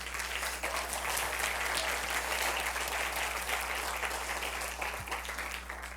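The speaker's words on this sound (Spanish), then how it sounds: "un aplauso a ellos, por favor." Sustained applause from a large crowd, steady and dense throughout, with no voices standing out.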